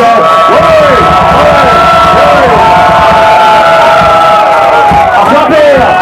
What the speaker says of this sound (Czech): Zatleskejte jim